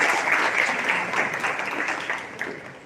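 Warm, even applause from an audience welcoming a guest at a law college orientation in Delhi, a continuous wash of many hands clapping that eases slightly toward the end.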